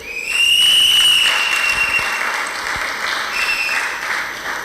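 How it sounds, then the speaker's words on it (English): Loud, sustained applause rises from a crowd at a rally, peaking early and then tapering slowly, with a shrill whistle sounding through the clapping. "please put your hands together for him"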